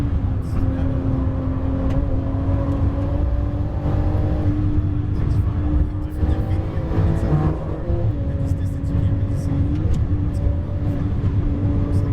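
Fast car engine revving with a sustained, steady drone and shifting harmonic tones, loud and continuous with no breaks.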